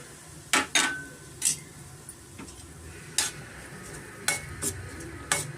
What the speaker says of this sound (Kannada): ಇವಾಗ ಇದಕ್ಕೆ ನಾವು ರವೆ ಹಾಕ್ಕೊಂಡು ಹುರ್ಕೊಬೇಕಾಗುತ್ತೆ. ಮೀಡಿಯಮ್ ಫ್ಲೇಮಲ್ಲೇ ನಾವು ಹುರ್ಕೊಳ್ಳೋಣ.